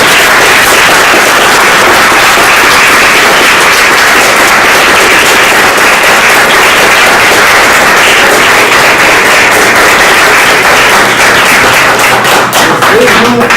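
An audience at a talk on schizophrenia, stigma and rights breaks into loud, sustained applause. Dense clapping continues without a break and stays full and close throughout.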